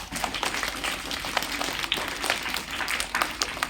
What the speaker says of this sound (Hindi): सही है, जोरदार ताली लगाइए